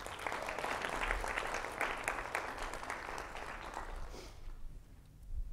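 A lecture audience claps to welcome a speaker at a science cafe event, a dense, fairly faint wash of applause that fades out toward the end.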